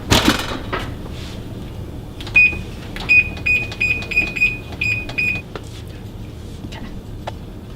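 An oven is checked and set to preheat, with door and handling clatter first, then a run of about ten short electronic beeps at an even rhythm, close and clear, with no talk.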